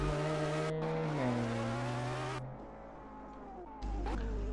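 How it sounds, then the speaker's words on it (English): Cosworth V8 race car engine in a racing video game, a high, sustained engine whine that shifts pitch as it holds revs, dips and fades briefly, then jumps back with a louder low rumble. "Don't you just love the sound of a Cosworth V8?"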